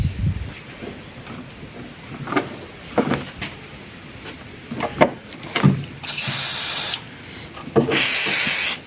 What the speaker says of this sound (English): I like to use the WD-40 wherever I have a grommet and also connectors